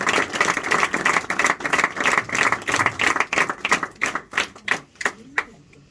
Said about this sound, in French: Et je voudrais qu'on les applaudisse encore une fois.